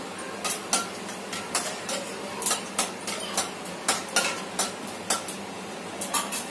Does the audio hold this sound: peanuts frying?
yes